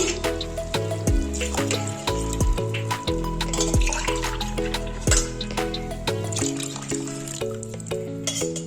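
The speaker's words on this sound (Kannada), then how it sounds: "ಎರಡು ಗ್ಲಾಸ್ ಅಕ್ಕಿಗೆ 4 ಗ್ಲಾಸ್ ನೀರು ಹಾಕಿಕೊಳ್ಳುತ್ತಿದ್ದೇವೆ" Four glasses of water are poured over two glasses of rice in a pot, a running liquid splash heard under background music.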